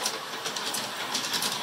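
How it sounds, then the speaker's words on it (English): A model train runs on a ceiling-mounted track around a bedroom, giving a continuous bright rattling clatter with light rhythmic clicks, steady and fairly close, with no voices. "our train travels along the upper side of the room"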